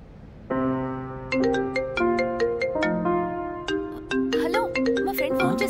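A mobile phone rings with an incoming call, playing a loud, clear melodic ringtone of repeated chiming notes that runs throughout, with a brief burst of other sound near the end.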